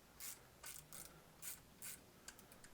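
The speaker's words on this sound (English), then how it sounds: "so we'll go ahead and ratchet" A quarter-inch low-profile dual-head mini ratchet wrench ratchets close up in quick bursts, about six short clicking runs spaced unevenly, quiet and on its own.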